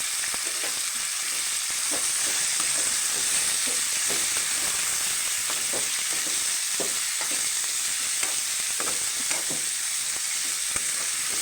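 Small chicken pieces, about half a kilo, sizzle and fry steadily in a hot pan for a curry, with occasional stirring clicks over a constant bright hiss and no talking.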